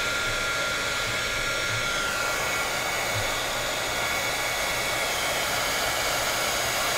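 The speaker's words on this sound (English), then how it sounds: "you simply turn on a heat gun" A heat gun blows hot air onto heat-shrink tubing over LED wires, a constant close hissing rush of air with a steady motor hum throughout.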